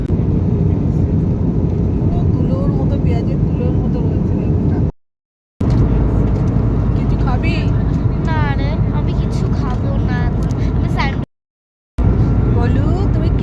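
An airliner takes off, its engines roaring as a steady, loud, broadband rumble heard from inside the cabin, with voices talking over the noise and two brief silent cuts.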